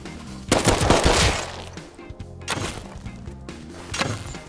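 Gunfire in the video game Rust, with two loud bursts of rapid shots separated by a brief pause, close and harsh.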